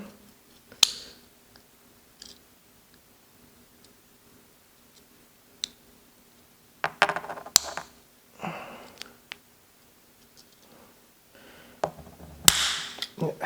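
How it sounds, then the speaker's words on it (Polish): Plastic buttons are pressed into a tight-fitting case for a Meshtastic radio device, giving sharp, sparse clicks and snaps spread out over a quiet background, with a cluster of louder clicks near the end. "Nie wiem, czy to powinno tak ciasno wchodzić i aż tak mocno tutaj klikać."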